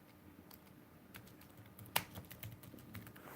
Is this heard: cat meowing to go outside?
no